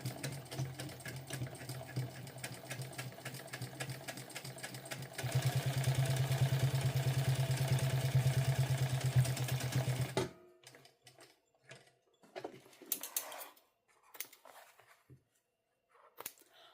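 A sewing machine top-stitches a blue denim seam, running in a steady rapid whir for about ten seconds and speeding up midway, then falling to scattered clicks and handling sounds.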